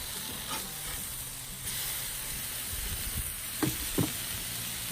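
Burgers sizzle on a Blackstone griddle after being flipped, a continuous close frying hiss with a couple of brief scraping clicks of a spatula.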